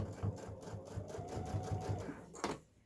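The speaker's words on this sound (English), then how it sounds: "I'm just going to put the foot down and start to sew." A sewing machine stitching quilt binding, running in a steady, fast rhythmic chatter of needle strokes close by, stopping abruptly near the end.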